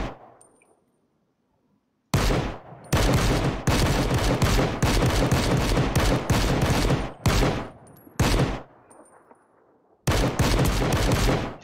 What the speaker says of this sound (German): Rechts von uns auch noch eine Schüsse.